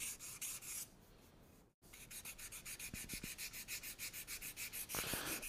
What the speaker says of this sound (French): Donc on fait un petit ponçage propre.